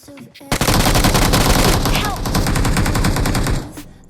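Rapid automatic gunfire in BGMI (PUBG Mobile), a loud dense burst of shots for about three seconds, close and sharp, with a brief lead-in and a quiet tail after the firing stops.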